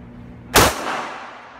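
A single sharp gunshot at an outdoor shooting range, loud and close, with a sudden crack followed by a short fading echo over quiet background noise.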